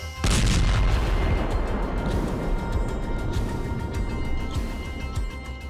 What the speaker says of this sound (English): Though our explosions are getting bigger, they still don't feel big enough.